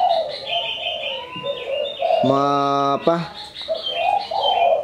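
A spotted dove (tekukur), showing signs of breeding readiness, gives one clear cooing call partway through. Someone talks over most of the clip, and soft chirps sit in the background.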